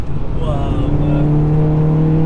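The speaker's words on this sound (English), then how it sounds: "Sometimes when you change the gears, you can hear like a loud pop." Stage 2 tuned Skoda Octavia vRS estate accelerating from inside the car, a loud rising engine drone and road roar filling the cabin, with a voice briefly heard.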